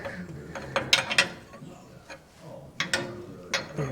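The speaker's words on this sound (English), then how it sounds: "Now, I get a wrench up there." A wrench works a 3/4 fitting beneath a car during a vintage air conditioning install, giving scattered metallic clicks and ratcheting ticks in short irregular bursts, close by with no talk.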